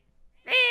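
An owl in the video game Fall Guys gives one short, clear hoot that swells suddenly after near silence, with no talking.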